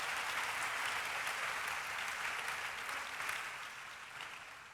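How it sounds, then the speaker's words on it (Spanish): A church audience applauds the missionaries with steady, dense clapping that holds evenly across the whole stretch and eases off slightly toward the end, with no voices over it. "Un aplauso."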